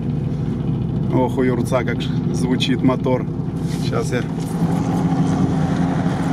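A steady off-road vehicle engine drone runs throughout on an icy off-road track, with someone talking briefly over it partway through.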